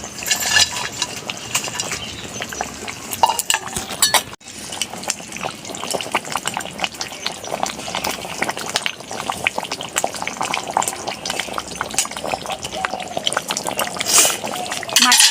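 Fried bhetki fish pieces go into a simmering curry with cauliflower, giving a loud bubbling, sputtering boil with liquid splashes that continues throughout.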